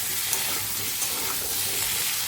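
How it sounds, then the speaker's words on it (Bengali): Poppy seeds frying in a pan, a soft steady sizzle with light stirring scrapes, fairly quiet and close, no voices. "এই দেখো, পোস্তটা একটু ভাজা হলে"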